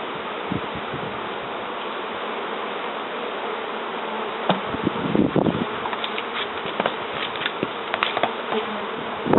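Honey bees buzz in a dense, continuous hum over a hive frame of capped honey, close by, with faint rustles and small knocks from handling the frame.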